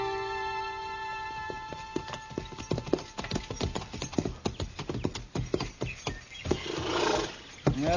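Horses' hooves clip-clop in an uneven, overlapping rhythm as riders arrive in an Old West town, a radio-drama effect set over a steady background tone, with a whinny and bustle rising near the end.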